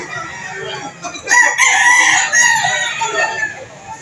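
At a chicken market in Lipa City, Batangas, a nearby rooster lets out a loud crow among clucking fowl, with light market background noise underneath.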